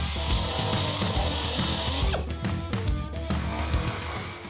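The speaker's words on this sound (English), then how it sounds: "we can take our wire brush and clear up any seam sealer or glue that was left in the corners" A wire brush on a power tool scrubs leftover seam sealer and glue from the corners of a Honda Civic rally car's stripped floor, a loud, continuous harsh whirring scrape with brief dips in intensity.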